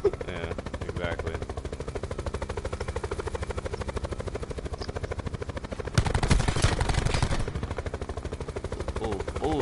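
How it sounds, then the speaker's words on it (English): Rapid machine-gun fire rattles steadily in a Call of Duty Blackout match, with a louder, denser burst of shots partway through over a constant helicopter drone; players talk over it. "Someone's shooting at us."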